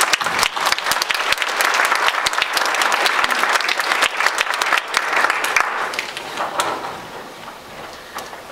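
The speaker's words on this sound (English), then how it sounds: "But I'm going to ask you to first give them a round of applause of welcome here tonight" An audience at an evening community talk on wastewater and Namskaket Marsh applauds to welcome a panel, with dense, loud clapping that thins and fades over the final few seconds.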